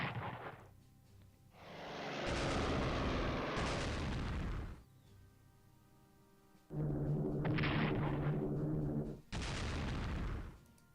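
Bombing runs by bombers in the strategy game Strategic Command make loud, heavy blasts and rumbling explosions in several long bursts, separated by quieter gaps.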